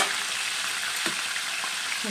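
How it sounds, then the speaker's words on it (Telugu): Yogurt and spices frying in a pan for chicken curry, a close, steady dense sizzle with a few faint stirring scrapes, heard alone. "కొద్దిగా ఎగిరిపోయే వరకు కొద్దిగా ఫ్రై చేసుకుందాం"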